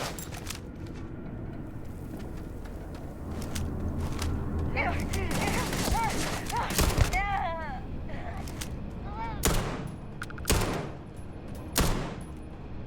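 Gunfire in a video game set in the Devil's Den, sharp loud shots ringing out amid ongoing game noise and a voice talking, with several distinct cracks toward the end.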